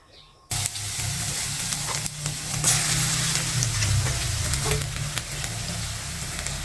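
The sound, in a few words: crushed garlic sizzling in hot mustard oil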